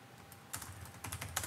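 Close, crisp keystrokes on a computer keyboard as a code query is typed, with short bursts of clicks after a brief quiet start.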